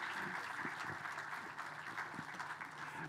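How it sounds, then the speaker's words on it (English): Audience applause for panelists at the close of a bank's financial presentation luncheon, a steady, fairly faint wash of many hands clapping throughout, without talk. "please join me in giving a warm round of applause to the Vice Presidents and our panelists"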